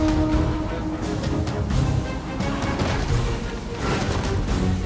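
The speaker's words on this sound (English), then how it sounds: "And trebuchet fire coming in." Trebuchet fire in a Medieval Kingdoms Total War battle, Teutonic Order invading Norway: a dense, continuous barrage of heavy crashing impacts and booms rolling over a loud battlefield din, with no voices.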